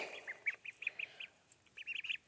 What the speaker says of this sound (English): You see duckies?